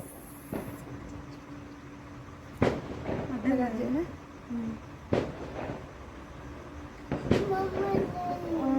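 Several sharp firecracker bangs go off at intervals during New Year celebrations, with people talking and shouting in between.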